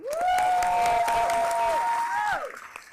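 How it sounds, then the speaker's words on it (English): A conference audience at a State of Haiti event applauds a speaker as she comes to the stage. The clapping is close and steady, with a long sustained whoop rising over it before it fades out. "Please bring her to the stage with a thunderous applause, Madame Leonie Hermantin."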